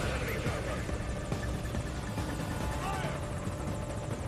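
A helicopter hovers in Metal Gear Solid V: Ground Zeroes gameplay, a steady dense rotor drone filling the scene at constant loudness throughout.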